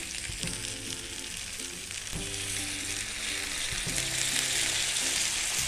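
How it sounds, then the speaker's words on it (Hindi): Sauce poured over chicken steak fillets and caramelised onions in a hot pan, setting off a loud, steady sizzle and frying hiss that swells after each pour. "अब मैं इसमें ऊपर से सॉस डालूँगी।"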